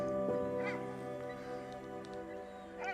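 A strange, honking bird call sounds close by in Lofoten, northern Norway, in autumn, repeating in short nasal bursts over a steady low hum.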